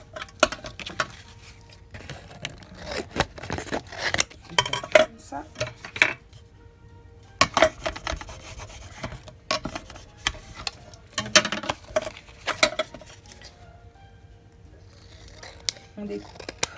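Scissors snip around the edges of paper for a scrapbook album, giving a string of quick crisp cuts and small clicks close by, broken by short pauses while a person talks between them.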